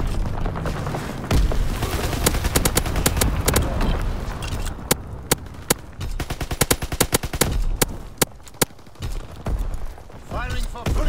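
Video-game gunfire cracks in rapid bursts and single sharp shots, close and loud, with fast machine-gun volleys early and spaced punchy reports later, while an announcer-like voice speaks over the combat.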